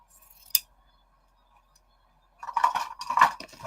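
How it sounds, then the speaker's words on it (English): Scissors cut through fabric right up to a sewn seam: one crisp, close snip, a quiet pause, then a busier stretch of cutting and fabric rustling. "I'm going to cut it to the seam that I sewed"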